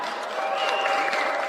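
Applause from a crowd, a dense, even patter of clapping heard at a modest level for a brief moment without a break.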